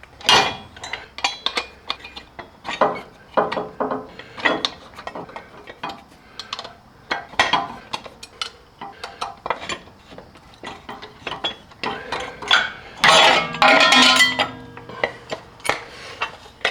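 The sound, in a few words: tightening a fitting on an air bag helper kit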